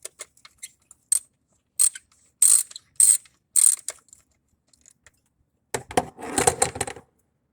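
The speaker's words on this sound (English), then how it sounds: "Looks like it needs a little bit more wrenching there." A ratchet wrench loosens a bolt on a car, a Q50, giving a series of sharp metallic clicks in bursts, followed by a faster rattling run of ratchet strokes, close and with no voices.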